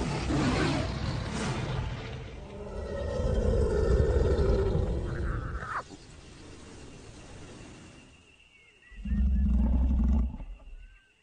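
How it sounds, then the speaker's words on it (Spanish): A lion roars in the wild, deep rumbling bursts rising and falling over several seconds, followed by a separate loud low roar that sounds close. "Se oye otro rugido,"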